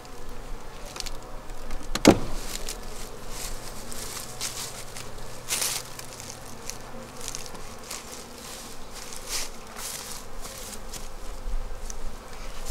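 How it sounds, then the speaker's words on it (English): Honey bees from an opened beehive drone in a loud, dense, continuous buzz during the first hive inspection of the year, with a sharp knock near the start and light rustling throughout. "They're very loud, which I think, I hope, means that's because there's a lot of bees."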